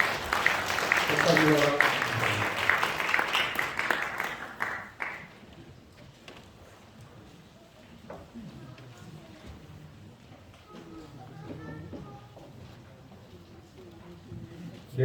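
Applause from an audience at a regular Korean church presbytery meeting breaks out at the start and fades after about five seconds, followed by quieter room noise and someone speaking briefly.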